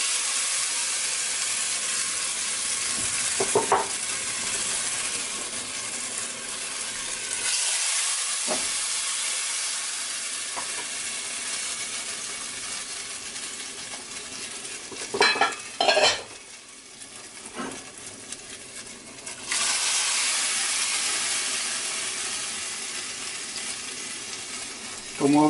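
Tomatoes sizzle steadily in a pan for tomato sauce, a loud continuous frying hiss broken by a quieter stretch, with a spoon scraping and clinking against the pan during stirring.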